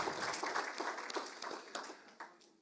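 Applause from an audience at a river symposium, a burst of clapping that thins out and fades over a couple of seconds.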